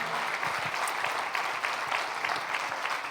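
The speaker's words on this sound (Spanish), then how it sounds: "Levántese, aplauso al Señor" A church congregation at a servants' gathering applauds steadily, dense clapping filling the room throughout with faint voices mixed in.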